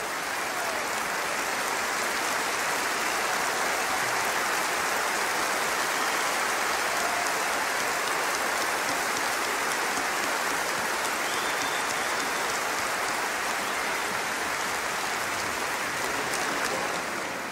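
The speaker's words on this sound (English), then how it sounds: "Give her an enormous applause." A large concert audience applauding at a Christmas orchestral show in Maastricht, a dense, continuous roar of clapping that stays loud and even throughout.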